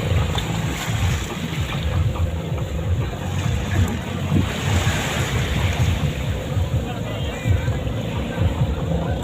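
Racing outrigger boats at a barangay boat race in San Jose, Antique, run over choppy water with a steady engine drone, wind buffeting the microphone and waves splashing throughout.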